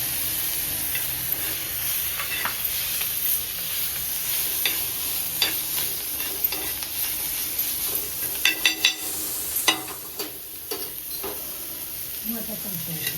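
Peanuts frying in a pan for a spicy thecha, a steady close sizzle with scattered stirring scrapes and a cluster of sharp clatters near the end.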